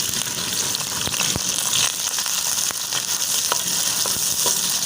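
Chopped onions sizzling and frying in hot cooking oil in a kadhai, a steady dense crackle with occasional sharper pops and stirring scrapes throughout, close and fairly loud.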